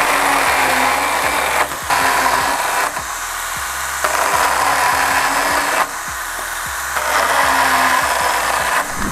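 A STIHL GTA 26 10.8-volt cordless saw whines loudly through wood in repeated cuts, with brief pauses between passes and a steady motor hum underneath.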